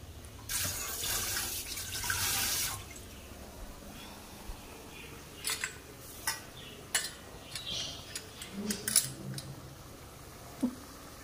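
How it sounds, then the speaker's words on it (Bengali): Tap water runs briefly as hands are washed at a kitchen sink, a short splashing burst followed by quieter intermittent drips, clinks and handling sounds. "একবার হাতটা ধুয়ে নেব।"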